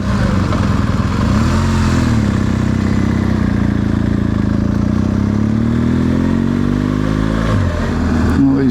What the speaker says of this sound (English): he's tipping off the gravel for the roadworks